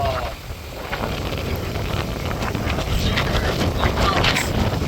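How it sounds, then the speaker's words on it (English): Strong wind blowing across an open roadside spot in Corpus Christi, Texas, a loud continuous roar buffeting the microphone, with a voice speaking over it. "this big of wind is about to blow me all over the place"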